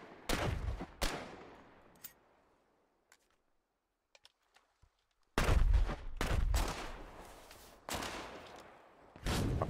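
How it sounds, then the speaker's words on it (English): Machine gun fire in the war video game Foxhole during frontline fighting: loud bursts of rapid shots near the start, a quiet stretch with scattered faint distant pops, then several heavy close bursts later. "Yeah, there's a machine gun up there."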